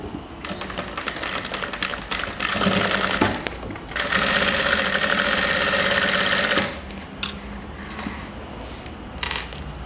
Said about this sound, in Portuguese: Agora eu vou pegar e vou passar a costura daqui desse início e sigo até a outra quina lá do tecido.